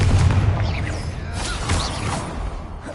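A Confringo fire spell bursts in Hogwarts Legacy combat, a loud rumbling blast with whooshing magical streaks and follow-up thuds rolling through the room, no voices over it.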